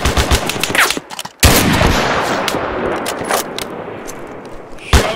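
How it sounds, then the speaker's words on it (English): Rapid bursts of gunfire from the video game Mud and Blood, dense crackling volleys and machine-gun rattle that pause briefly, then return in loud sustained fire with scattered sharp reports. "We have to fire back!"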